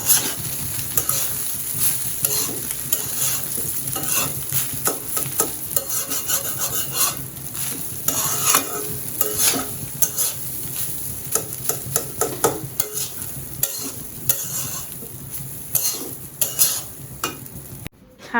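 Food in a pan being stirred after salt is added: continuous close scraping and rubbing strokes with a faint sizzle underneath, steady throughout with no talking.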